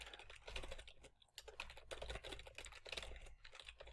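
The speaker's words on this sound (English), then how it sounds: "Since I'm not in Visual Studio, we just type it in." Someone types quickly on a computer keyboard, entering a package command, making a dense run of close, quiet key clicks and taps with brief pauses and no talk.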